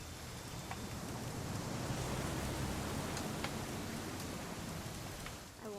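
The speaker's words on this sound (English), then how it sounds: "It's gonna rain the whole weekend" Steady rain falls in the video game What Remains of Edith Finch, a soft, even hiss of droplets running throughout at low volume, with no talking over it.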